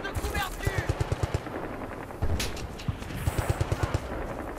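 Automatic gunfire in Battlefield Bad Company 2: repeated rapid machine-gun bursts, loud and near, with a heavier blast midway and another volley after, while someone talks briefly underneath.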